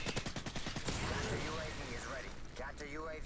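Rapid bursts of MP9 submachine gun fire in a 1v1 video game match ring out loud and close in a fast rattling string, then give way to game effects and warbling tones, with a voice talking over part of it.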